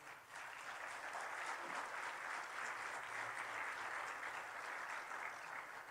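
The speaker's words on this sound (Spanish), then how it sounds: "Denle un aplauso al Señor." A church congregation applauds together in a steady, even wash of clapping that holds for several seconds, fairly quiet and slightly distant.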